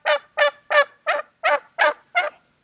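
A turkey gobbles close by in seven rapid, evenly spaced bursts, each a bright warbling rattle, with nothing else heard.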